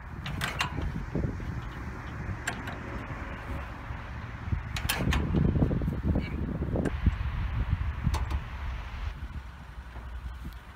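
A Ford Model T under restoration being hand-cranked at the starter crank: ratcheting mechanical creaks and clanks with sharp clicks, swelling into a louder rough churning stretch midway, close up and without speech.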